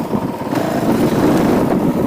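A Honda CRF450L dirt bike engine runs steadily on a trail in second gear, a loud, close, continuous rumbling drone with slight rhythmic variation and no talking.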